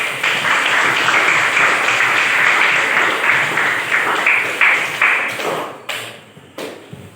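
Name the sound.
class applauding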